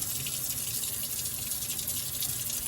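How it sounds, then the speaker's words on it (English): A steady stream of tap water splashes into a sink while a juicer part is rinsed underneath, continuous and close. "Then just rinse out this part."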